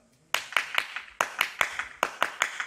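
A group of scout leaders and secondary school students claps in unison in sharp sets of three, with three crisp rounds following each other after a brief quiet start.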